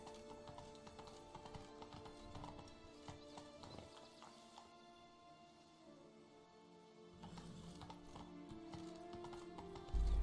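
A horse in The Witcher 3: Blood and Wine clip-clops in a steady rhythm over a busy background of game music and ambience, fairly faint, with a brief lull midway and a louder thump at the end.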